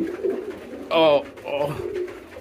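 Pigeons in a loft give a soft coo with one short, clear, warbling call near the middle, while a person talks quietly close by.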